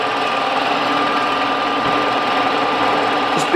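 A Cincinnati Bickford Super Service heavy-duty radial drill runs at 180 RPM, a loud steady mechanical hum and whir with no pauses, heard up close.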